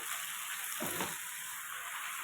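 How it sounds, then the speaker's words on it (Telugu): Soaked basmati rice fries in a pan for egg and paneer biryani, giving a steady, quiet sizzle broken by one brief scraping stir near the middle. "రైస్ వేసి ఒక రెండు నిమిషాలు రైస్ కూడా నీట్గా ఫ్రై చేసుకోవాలి"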